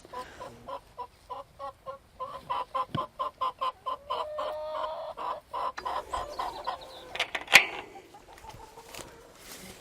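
Chickens cluck in quick rhythmic bursts nearby, a busy run of clucks with a sharp squawk near the end, fairly quiet overall.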